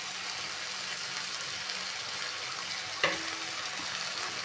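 Water poured into a pan of long beans and potatoes frying over a medium gas flame, a sudden hiss near the end rising over the steady close sizzle.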